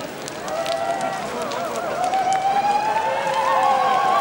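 A burning Chienbäse fire wagon at the Liestal carnival roars and crackles close by, with a dense, steady noise of flames and whistling, shifting tones rising over the rumble. Voices can be heard faintly in the background.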